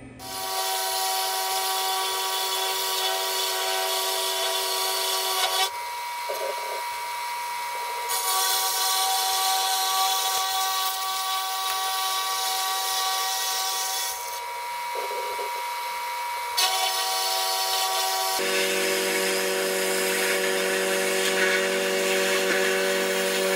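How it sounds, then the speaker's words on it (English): A 3/4 inch end mill climb milling around a copper damascus dagger blank clamped between two vises, giving a loud steady high-pitched cutting whine with tonal shifts as the cut changes, close and uninterrupted. "I'm gonna use a 3/4 inch end mill, and I'm gonna climb mill all the way around"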